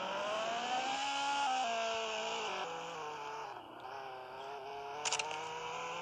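A Roblox video game car drives with a steady buzzing engine tone, pitch climbing early then dipping and recovering, continuous and close, with a short burst of higher noise near the end.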